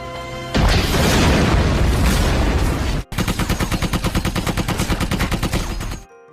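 In the film Darah Garuda, a heavy barrage of gunfire and booms, then a rapid, steady burst of automatic fire with evenly spaced shots, loud and close, ending abruptly.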